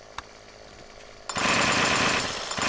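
A chainsaw started up in the 7 Days to Die video game, kicking in suddenly after a quiet stretch and running as a loud, continuous rattling buzz.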